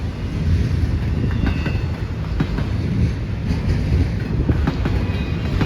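A CN eastbound manifest freight train led by ET44AC locomotive 3095 rolls past Mission City Station, with a continuous loud rumble, rhythmic clickety-clack of wheels on rail joints and faint squeals, close by and without talk.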